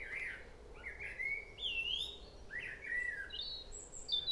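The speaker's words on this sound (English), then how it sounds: "we've got a robin to the right and a blackbird to the left." A robin and a blackbird sing in an English back garden in May, their thin, bright phrases distant and fairly faint over a soft outdoor hiss, with no voices.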